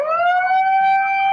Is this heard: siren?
yes